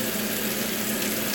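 A steak sears in a very hot pan, giving a brief, loud, continuous sizzle with an even crackling hiss and no voices.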